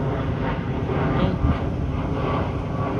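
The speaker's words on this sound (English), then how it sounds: "So that was an Air Canada airplane that I just saw." An Air Canada airliner passes high overhead on a hot day above an industrial street in North York, a steady broad roar heard outdoors with some wind buffeting on the microphone.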